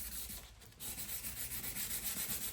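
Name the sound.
wet sanding a car headlight by hand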